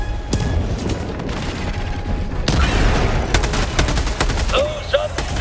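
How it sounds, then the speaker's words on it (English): Gunfire in Helldivers 2 against bugs: rapid, loud bursts of shots with mechanical clanks and booms, growing denser in the second half, with a synthetic chirp near the end. "stay still while you shoot"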